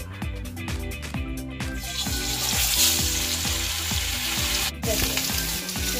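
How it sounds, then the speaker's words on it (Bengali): A large fish fries in hot oil in a wok, giving a loud, steady crackling sizzle close by that holds throughout with a few pops and scrapes, no talking. "এই যে মাছের তেল একদম ভালোভাবে গরম হলে তবে মাছ ছাড়তে হবে"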